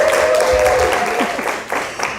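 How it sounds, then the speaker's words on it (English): Audience applause at an event honoring single mothers, a dense burst of clapping that stays loud and steady with a faint tone and some voices mixed in. "let's give her another round of applause"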